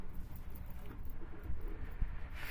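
Mavi Kırlangıç pigeons coo softly nearby over a low, steady background rumble, with a few faint thumps and no voices.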